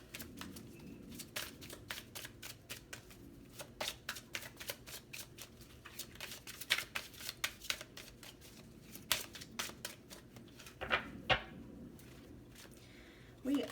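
Tarot cards being shuffled and drawn, with rapid flurries of crisp riffling snaps and flicks spread over several seconds, close to the listener, while a voice talks intermittently.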